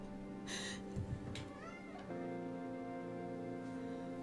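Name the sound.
cat meowing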